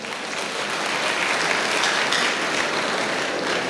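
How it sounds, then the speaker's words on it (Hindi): Loud, dense applause from a seminar audience in Mathura, a steady wash of many hands clapping together, sustained evenly throughout with no talk over it. "इनके लिए जोरदार तालियां सभी के लिए"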